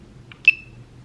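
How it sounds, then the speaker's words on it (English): A drone remote control gives a short electronic beep, a small chirp followed by a brighter tone, once over low background rumble. "What's beeping? This is my drone remote control."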